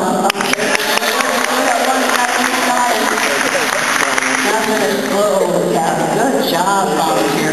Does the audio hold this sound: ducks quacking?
no